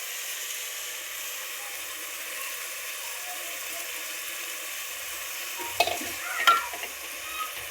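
Rice stirred and frying in a pan, a steady soft sizzle throughout with a few brief scraping stirs near the end; no voices.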